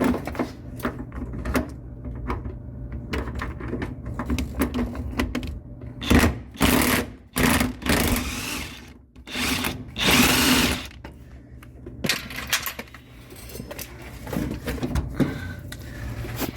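A power tool backing out bracket mounting bolts on a 1972 Chevrolet Nova with a big-block engine, whirring in repeated bursts of varying length, loud and close in a garage with no talk.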